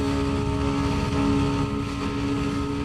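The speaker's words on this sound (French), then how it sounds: "on a une moto qui hurle" A Yamaha Lander 250 motorcycle engine drones loud and steady at high revs under full acceleration on an open road, with a close, sustained tone and wind roar and no speech.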